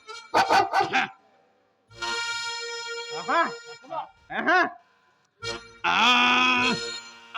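Loud, close dog barks and yips come in several quick bursts, with a few longer whining, howling calls between them.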